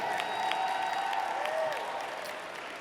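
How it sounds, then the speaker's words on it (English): Audience applause for a speaker at a remarks event, a steady wash of clapping with a faint tonal hum beneath, holding at even loudness then easing slightly toward the end. "Let's get a little bit of a round of applause for Gwen"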